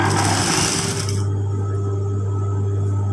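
A sewing machine stitches close to the fabric edge in a loud, dense burst of rapid mechanical chatter that stops after about a second, leaving a steady low motor hum.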